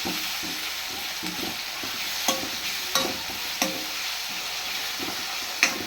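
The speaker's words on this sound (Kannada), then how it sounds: "ಕಟ್ ಮಾಡಿರುವಂಥ ಒಂದು ಟೊಮೆಟೊನ ಹಾಕಬೇಕು. ಹಾಕಿ ಸರಿಯಾಗಿ ಕಲಿಸಿ" Chopped tomato is stirred into a vegetable pallya frying in a pan, a steady sizzle broken by several sharp scrapes and clinks of the spoon against the pan.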